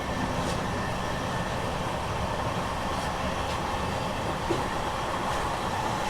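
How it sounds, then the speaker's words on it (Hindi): Rewanchal Express passenger train rolling steadily after pulling out of Maihar station in Madhya Pradesh, a continuous loud rumble of wheels and carriage noise with faint rhythmic clicks, no voices. "फाइनली हम लोग मैहर रेलवे स्टेशन से भी निकले"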